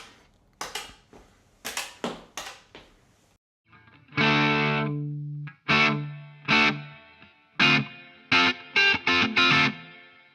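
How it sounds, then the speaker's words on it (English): Electric guitar played through a Boss MS-3 multi-effects unit with reverb switched on: a series of loud distorted chords and picked notes in irregular bursts, each ringing out and decaying, with no talking. "So with this external foot switch here, I've also got a reverb on."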